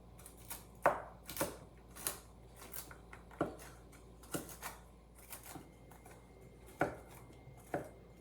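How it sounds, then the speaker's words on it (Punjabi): Walnuts being chopped and crushed on a board for a dry fruit energy bar roll, sharp irregular knife strikes and crunching taps repeating at close range, with no talk. "ਆਪਣੇ ਜਿਹੜੇ ਵਾਲਨਟ ਹੈਗੇ ਆਪਾਂ ਚੰਗੀ ਤਰ੍ਹਾਂ ਇਹਨਾਂ ਨੂੰ ਕੱਟ ਲਿਆ ਹੈਗਾ ਕ੍ਰਸ਼ ਕਰ ਲਿਆ ਹੈਗਾ"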